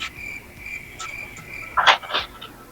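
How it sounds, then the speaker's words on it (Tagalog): Crickets chirp in a steady high-pitched trill, joined near the end by a couple of louder, closer chirping bursts. "Bakit ho bigla hong nagising yung mga kuliglig."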